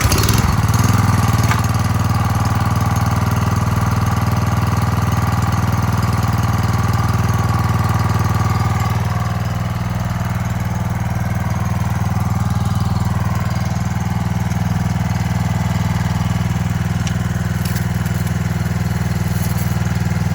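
A small gasoline engine on a power washer runs steadily and loudly throughout, a continuous close drone with a low throbbing idle and no pauses.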